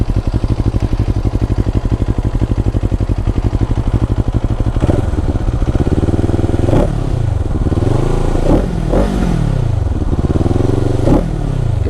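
A 2022 CFMOTO 700CL-X motorcycle engine, loud and close, first runs at a steady throbbing idle, then revs up and down in repeated swelling throttle blips with a deep gurgling tone.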